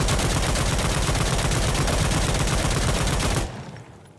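G3A3 battle rifle fitted with a foregrip firing a long sustained automatic burst in the Insurgency Sandstorm video game, dense, loud, steady gunfire that stops abruptly near the end, leaving a short fading tail.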